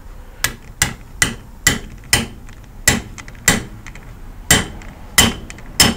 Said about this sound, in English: we use the same punch that we drove that shell through before, just to make that plug seat down properly